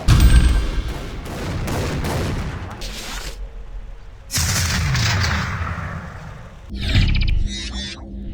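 Shotgun blasts in a first-person shooter video game: several heavy booming shots in quick succession, a pause, another loud blast with a long tail, then sharper reload and mechanical clicks, all close and loud.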